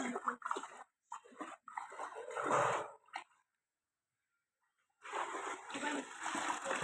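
A fish net is dipped into and swished through aquarium water holding goldfish. The splashing comes in bursts, goes silent for a moment, then churns steadily again, loud and close.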